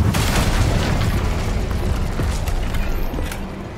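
A fiery Incendio spell bursts out in the Hogwarts Legacy video game, a loud, dense rumbling whoosh of flame with booming crackle that holds steady for several seconds before easing slightly at the end.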